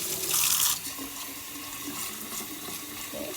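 Cool water runs from a tap into a jar of sprouting seeds, a steady close splashing pour that is loudest at the start and then settles into a softer continuous trickle.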